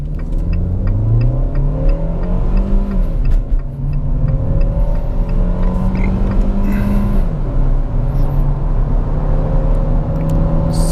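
A 2018 Fiat Argo Precision with a 1.8 engine and six-speed automatic pulls away from a standstill, its engine rising loudly through the revs, dropping briefly at a gear change, then climbing again under a steady close cabin rumble.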